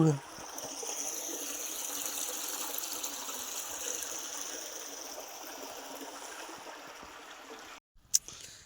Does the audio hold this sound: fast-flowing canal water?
yes